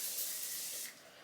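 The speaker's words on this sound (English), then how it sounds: "Now let's go ahead and spray this body spray." Body spray from an aerosol can gives one steady, close hiss for nearly a second before cutting off abruptly.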